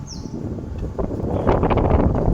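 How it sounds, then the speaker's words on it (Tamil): Loud, blustery wind roars and buffets the microphone while cycling at Ma On Shan, Hong Kong, building in strength toward the end with a low rumbling undertone. "செம்ம காத்தடிக்குது"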